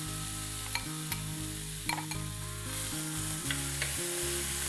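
Finely chopped onions fry in oil with whole spices, giving a steady, close sizzle with occasional light stirring clicks over a low, sustained tonal hum in the background.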